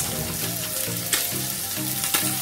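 Chopped garlic and ginger sizzle and fry steadily in olive oil in a pan, a dense continuous crackle with a couple of brief sharper spits, heard close and without speech.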